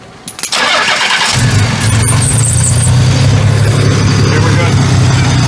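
A car engine after a turbo swap cranks briefly, catches, then settles into a loud, steady idle close by, with people talking.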